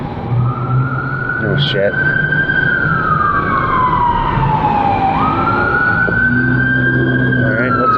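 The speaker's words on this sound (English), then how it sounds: "There's an ambulance." An ambulance siren wails loudly past on the road at night, its tone rising and falling steadily under a rumbling vehicle engine, while a man briefly exclaims.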